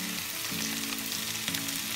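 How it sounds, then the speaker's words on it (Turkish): Spinach sizzles and fries in a pan with onions and peppers, a steady close sizzle with a couple of faint stirring scrapes and no voices. "Soğanlarımızla ve biberlerimizle beraber kavrulsunlar."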